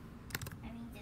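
A few quick keystrokes clatter on a computer keyboard, a short burst of close taps over a low steady hum.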